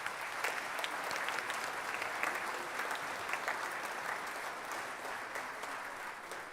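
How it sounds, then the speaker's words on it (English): An audience at a middle school all-state band concert claps in a steady, even wash of applause that holds for several seconds, with no voices on top. "We can applaud for all of them."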